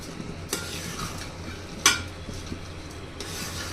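Spoon stirring washed rice and lentils into beef in a pot for beef bhuna khichuri, a few scraping strokes with one sharper clatter, over a low steady cooking sizzle.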